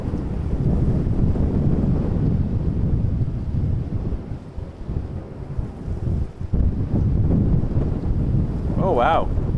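Strong gusty wind buffets the microphone at an airport, a steady low roar filling the whole stretch with brief lulls, while a voice speaks faintly at the end.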